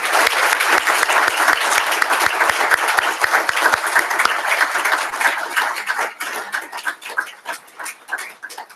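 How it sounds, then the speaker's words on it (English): At an employee recognition breakfast, an audience gives a final round of applause, brisk clapping that fills the room before thinning out and tapering into scattered claps near the end. "So I'd like one final round of applause, if you could, and join me to congratulate all of our recognition."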